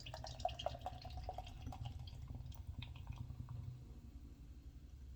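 Beer poured into a Nonic pint glass, a gurgling, splashing liquid stream with fizzing that runs steadily for several seconds before thinning out, heard close up with no talking.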